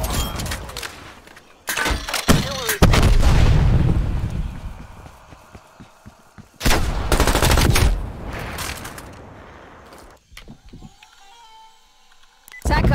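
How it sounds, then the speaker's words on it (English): Artillery strike in Call of Duty Black Ops Cold War multiplayer: loud, heavy booming blasts with rumbling tails and scattered gunfire, separated by quieter stretches. "get some artillery inbound on my cohorts"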